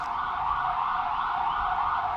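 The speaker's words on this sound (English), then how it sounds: "I'm trying to wait for the siren to pass," An emergency vehicle siren passes on the street, a sustained wailing tone held steadily at a moderate distance over faint low traffic rumble.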